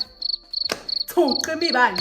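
Crickets chirp in a steady, pulsing high trill, joined partway through by other louder, tonal sounds.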